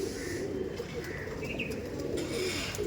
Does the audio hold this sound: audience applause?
no